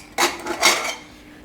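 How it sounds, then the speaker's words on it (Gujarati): A rice cooker is opened in a home kitchen while Gujarati dal bhindi rice is prepared, giving two quick metallic clatters of pot and lid close by, the second ringing briefly before fading. "હવે આપણે ભાતનો કુકર ખોલીને જોઈ લે"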